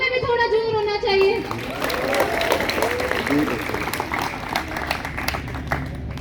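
An audience at an agricultural college cultural festival in Sri Ganganagar applauds, a crowd's clapping under a loud voice speaking over it near the start.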